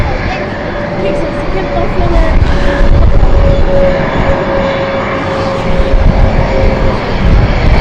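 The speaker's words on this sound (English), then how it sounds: "And this is the beautiful Airbus A220 inbound." An Airbus A220 airliner on landing approach at London City Airport roars loudly and steadily, a sustained jet engine whine holding throughout while someone talks over it.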